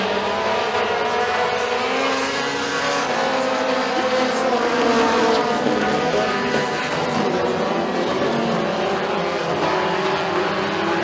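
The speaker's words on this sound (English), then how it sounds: "Bill Weatherly will take over the number three spot as they head through three and four" Mini stock race cars roar around a short oval at McKean County Raceway in a feature race, a dense continuous wall of engine noise with overlapping revving cars passing, loud and steady throughout.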